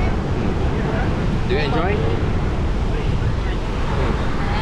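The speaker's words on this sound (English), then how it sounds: "Yes, as you can see, here it's actually very windy." Strong wind buffets the microphone at a sunny Bali beachfront while ocean surf roars steadily underneath, loud and constant, with a brief voice heard over it.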